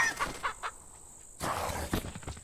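Chickens clucking in the horror video game Pacify, a few short clucks and squawks in close bursts against a steady high hiss, with no talk.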